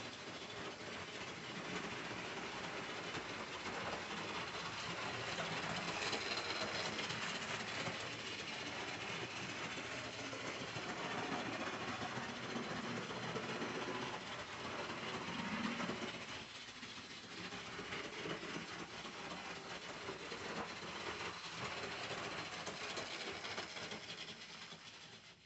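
Continuous faint rumbling and clattering of OO gauge model trains running on track, a steady mechanical whir that holds for the whole stretch with no talking.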